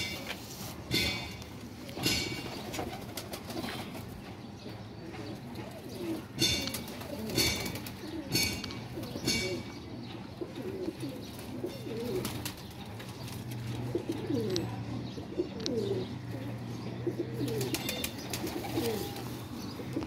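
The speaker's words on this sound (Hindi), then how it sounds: "ये जी कबूतर आ गया" Pigeons kept by a hobbyist for flying competitions coo steadily and close by, with soft repeated throaty calls and occasional chirps and wing flaps against a low background hum.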